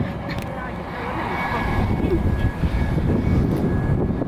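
An Airbus A350 airliner in arriving-from-Paris livery passes at Atlanta airport, a broad, steady engine roar that swells slightly midway, with a person speaking over it.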